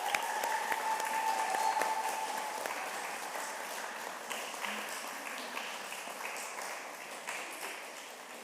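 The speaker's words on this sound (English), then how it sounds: "Okay, can we give Will one more congratulations and round of applause?" Audience applause at an eighth-grade graduation at a Catholic Montessori school, steady dense clapping from a crowd in a hall, slowly fading over several seconds.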